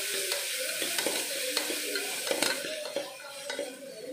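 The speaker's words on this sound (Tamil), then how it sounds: "Ginger paste சேர்த்துக்கறேன். சேர்த்துட்டு இதோட ரா ஸ்மெல் போற அளவுக்கு ஒரு 30 செகண்டுக்கு லைட்டா வதக்கி விட்டுருங்க." Garlic and ginger paste sautés in a pan for a Ramadan porridge, with steady close sizzling and repeated scraping stirs of a utensil against the pan.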